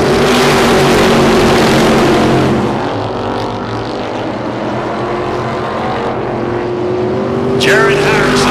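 Race cars roar down a back straightaway in a side-by-side battle, a loud, sustained engine drone with pitch shifts as cars pass, fading slightly midway before swelling again, with commentary heard over it.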